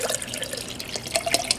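Mixed water poured into a potted pepper plant, a short splashing and trickling burst with a few drips, close and fairly quiet, with no voices.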